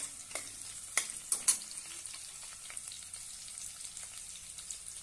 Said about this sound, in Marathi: आता यामध्ये 3 हिरव्या मिरच्या उभ्या चिरून घेतलेल्या आहेत, ते घालूया। छानपैकी परतून घेऊया।